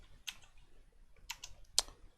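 Sparse typing on a computer keyboard while entering Python code: a few distinct clicks spaced apart, with the final keystroke the sharpest, close and quiet.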